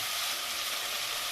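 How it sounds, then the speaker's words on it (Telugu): Washed tamarind goes into a hot pan of frying food, producing a steady, bright hiss of sizzling oil that stays close and even throughout. "చింతపండు కడిగి వేస్తున్నాను కొంచెం."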